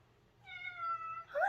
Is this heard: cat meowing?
yes